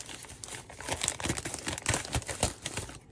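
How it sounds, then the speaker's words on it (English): Plastic packaging of a stationery and craft order is crinkled and torn open up close, producing a steady run of crackling rustles and short rips over about three seconds, with no talking. "Let's tear this open."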